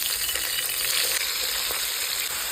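Chopped tomatoes fry in hot oil in a pan, set for Maharashtrian tomato chutney. A dense, steady sizzle holds throughout without pause, loud and close, with no voices.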